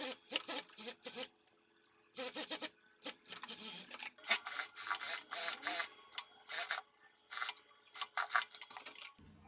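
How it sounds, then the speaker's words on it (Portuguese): Overlock sewing machine closing the side seam of a dress up to the sleeve, heard as short, close bursts of fast stitching separated by pauses, starting and stopping repeatedly. "agora eu vou lá para a máquina overlock, vou passar uma costura aqui para fechar toda essa lateral até a parte aqui da manga"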